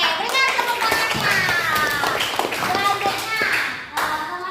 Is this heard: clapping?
yes